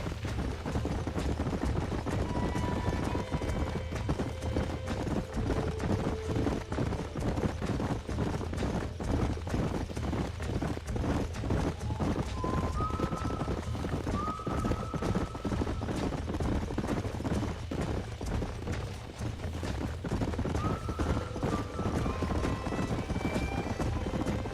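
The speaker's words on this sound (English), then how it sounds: "These are fine horses." Horses gallop in Red Dead Redemption, a steady clip-clop of hooves running through the whole stretch under a dense, continuous bed of game ambience with faint tonal whistles.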